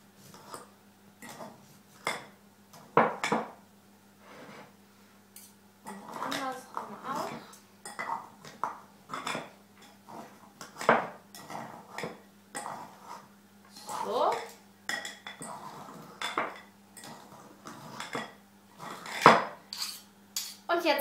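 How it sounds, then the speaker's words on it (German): A fork clinks and scrapes against a bowl in repeated short taps, chopping fried noodles over about twenty seconds; the tapping is uneven and fairly close, and faint speech can be picked up in the background. "Und jetzt schneidet man die Nudeln einfach in der Schüssel klein."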